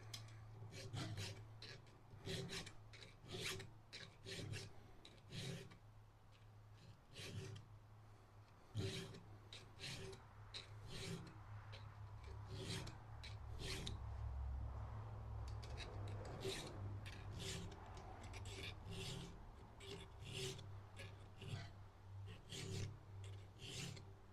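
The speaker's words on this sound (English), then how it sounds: "All of a sudden, your file starts to glide through as you make progress." Hand file working a Stihl chainsaw chain, short rasping strokes repeated in an uneven rhythm, close but fairly quiet over a low steady hum, with no clear talking.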